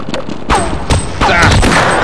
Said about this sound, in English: Ow. Ow. Stop shooting me,